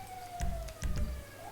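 Emergency vehicle siren in a video game, a faint steady wail running underneath two heavy, close thumping bursts.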